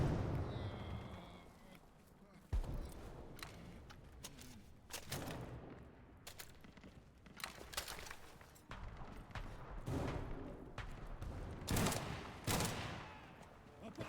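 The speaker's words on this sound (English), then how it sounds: "It's a shotgun kill." Gunfire in the War Thunder video game's infantry mode, including shotgun blasts: sharp, loud reports in irregular bursts mixed with distant shots and battle noise, with a voice talking intermittently over the action.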